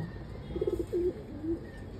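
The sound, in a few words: pigeon cooing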